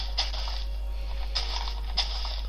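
Chopping a tree in Minecraft: a few sharp, repeated tinking hits spaced irregularly over a steady background hum, with no one talking.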